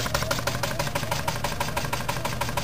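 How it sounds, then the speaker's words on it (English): Small Jensen 85 toy steam engine, modified with an added exhaust stack, running steadily under load with a fast, even chuffing rhythm over a constant mechanical hum, close and fairly loud. "here's little Jensen 85 working hard"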